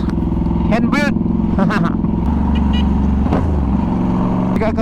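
A hand-built British retro Norton Commando 961 SF MK II motorcycle with an aluminium tank, its engine running steadily close by, with a voice talking over the loud continuous drone.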